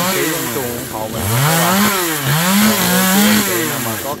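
A chainsaw cuts a very large Indian almond tree, its engine close and loud, pitch rising and falling in repeated revving surges as the chain bites into the wood.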